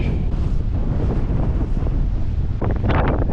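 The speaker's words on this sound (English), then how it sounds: "It's still very windy." Strong, relentless wind buffets the microphone on a sandy coastal hill, a loud, continuous roar with gusting rumble and no voices.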